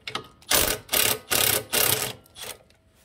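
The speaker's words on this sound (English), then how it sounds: "We're just gonna use a little 12 millimeter socket here." A 12 mm socket ratchet removes the heel guard bolt on a 2021 Honda Trail 125, giving five or six quick close bursts of ratcheting clicks with brief pauses between them.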